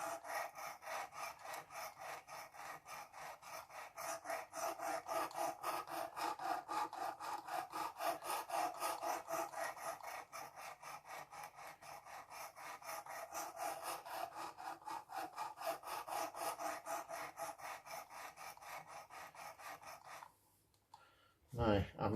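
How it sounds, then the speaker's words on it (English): Steady back-and-forth strokes of a Worksharp precision sharpening system abrasive rubbing along a knife blade, a harsh rhythmic rasp repeating close up for about twenty seconds before stopping, with a couple of clicks at the end. "I'm just going to gently take a few strokes up and down. You can hear that it's quite harsh."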